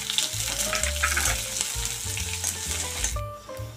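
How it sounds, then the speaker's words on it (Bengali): Sliced onions sizzle loudly in hot oil in a pan alongside bay leaves for a Bengali coconut prawn curry, with a steady crackle and occasional stirring scrapes and clatter, close and without speech. "এবার ভালো করে পেঁয়াজটাকে ভাজবো।"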